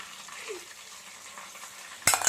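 Ginger paste frying in a pan for a prawn pickle gives a steady, soft sizzle with light stirring. A sharp, louder clatter comes at the very end.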